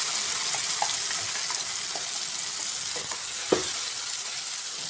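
Cucumber chutney cooks in a pan with a steady, close sizzle, and faint scrapes and one sharper clink come through as it gets stirred. Nobody speaks.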